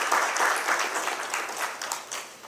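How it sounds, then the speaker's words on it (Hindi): Loud audience applause at the inaugural session of a Vyapar Rajasthan business event, a dense, steady wash of many hands clapping that fills the whole stretch with no voices over it. "इसके लिए सर ज़ोरदार तालियां आपके लिए हो जाएं."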